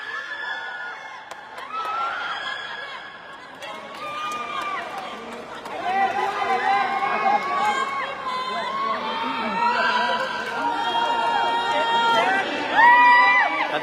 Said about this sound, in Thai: กองเชียร์ของนครหลวงขอนแก่น